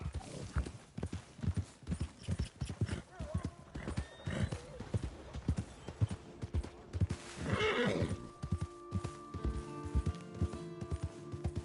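A horse's hooves clop in a quick, regular rhythm that breaks off into a loud neigh, with a voice speaking over parts of it.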